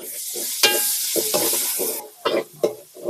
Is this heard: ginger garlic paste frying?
yes